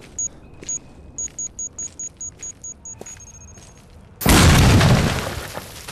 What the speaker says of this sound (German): Ich bin beeindruckt. Welche Explosionskraft.